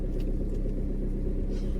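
During a car trip, a car engine gives a steady low rumble in road traffic, continuous and fairly loud from inside the vehicle, with no voices.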